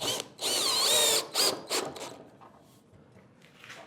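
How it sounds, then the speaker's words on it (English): A power drill driver whirs in several short bursts driving screws into wood, loud and close, with pauses between and quieter handling noise after. "I've got my drill driver ready."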